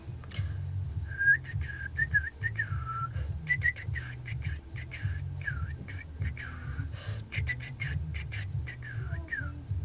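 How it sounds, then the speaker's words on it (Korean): Someone whistles a tune in short, wavering phrases, fairly soft and close, over a low humming background. "휘파람 PTT 가능해요?"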